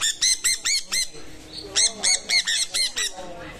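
An exotic bird at a bird park calls in rapid, loud, harsh squawking bursts, two quick runs of repeated sharp notes close by, with a short pause between them.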